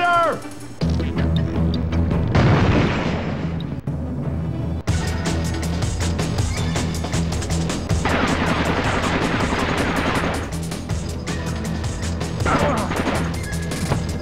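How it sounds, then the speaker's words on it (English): A grenade blast and gunfire in the PlayStation 2 game Splinter Cell: Pandora Tomorrow, loud crashing impacts and rapid shot bursts that continue densely throughout with faint voices underneath. "Let's try throwing a grenade."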